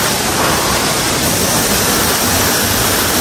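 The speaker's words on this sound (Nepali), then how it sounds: "यो चाहिँ भुते छरा है" Waterfall in the hills of Nepal, a loud, continuous roar of rushing water with steady broadband noise and no change in level, heard close up and alone.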